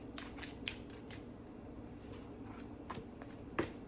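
Affirmation cards are shuffled during a tarot reading, giving faint, quick riffling bursts and soft flicks spread over several seconds in a quiet room.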